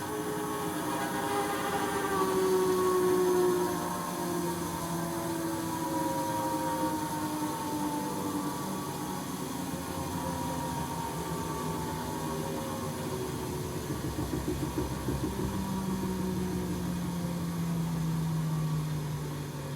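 Brushed electric motor running on a test bench with worn bearings, a low steady hum and faint scratchy brush noise lasting throughout at moderate volume, no voices.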